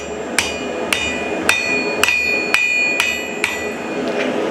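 Hammer striking a steel bar on an anvil while forging a shallow hook, seven or eight evenly spaced ringing metallic blows with bright sustained ring, close and loud.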